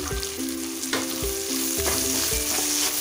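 Sliced onions and dried chillies sizzle loudly in hot oil for a Schezwan chicken dish, a steady close frying hiss with regular scraping strokes as the pan is stirred, no voices.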